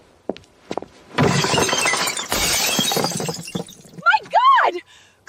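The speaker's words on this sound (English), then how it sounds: "I'm smashing my own things." Household belongings smashed by hand in a domestic quarrel: heavy crashes and shattering glass pour out in a loud continuous burst, and voices follow afterwards.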